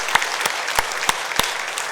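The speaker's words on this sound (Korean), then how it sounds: "우리 박수로 격려하겠습니다." Congregation applauding at the close of a Sunday church service, a loud continuous wash of clapping hands with a few sharper individual claps standing out.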